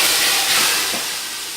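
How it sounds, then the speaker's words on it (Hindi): Hot oil tempering (tadka) is poured onto a pot of Punjabi kadhi pakora and sizzles with a loud, steady hiss that slowly fades over a second and a half. "अब हम इसको तड़का लगाएंगे।"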